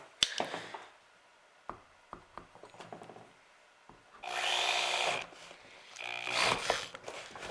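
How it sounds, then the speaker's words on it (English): A power drill whirs in two sustained bursts, close and loud, preceded by scattered knocks and clicks from handling, during an HID headlight kit install on a 2002 BMW E39. "Decided to switch to the electric drill instead this time."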